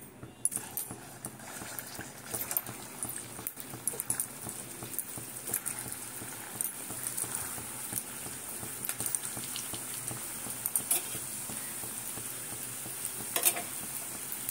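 Hot oil sizzles and crackles in a karai on a gas stove, a steady close frying hiss with scattered pops and occasional stirring clatter, no talking.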